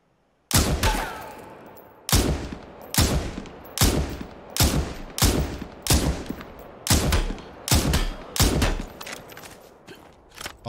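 Loud gunshots in the battle royale game Super People, fired in a steady series of about a dozen sharp cracks spaced roughly one second apart.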